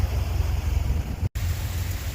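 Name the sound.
hail falling, heard while sheltering under a road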